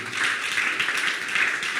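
A church congregation claps for God after a sermon, a dense, steady wash of many hands applauding together, close and loud with no voices over it.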